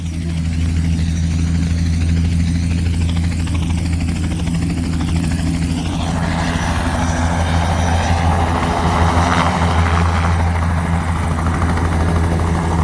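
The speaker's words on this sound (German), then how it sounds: "Görüşürüz Helikopter. Tschüss Helikopter." A helicopter's rotor thumps and engine drone hold steady and loud throughout, with the pitch of the noise shifting midway as it moves.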